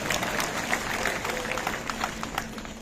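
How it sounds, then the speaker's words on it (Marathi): Audience clapping at a political public rally in Shahapur, a brief burst of dense, scattered applause from a crowd, moderately distant and steady. "त्यांचं टाळ्या वाजून एकदा अभिनंदन करून टाका"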